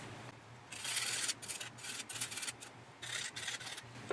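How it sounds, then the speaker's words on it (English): A plastic part for a 1/32 scale PBY Catalina model is trimmed and scraped by hand, making repeated close rasping strokes in short bursts with brief pauses. "So just give that a little trim just on some areas that aren't perfect fits."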